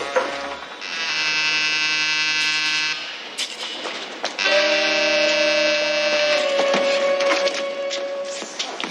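An alarm buzzer blares in two long harsh bursts separated by a brief gap, loud and close with clattering noise around it and no speech.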